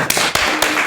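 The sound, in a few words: round of applause for Mr. Ben Murphy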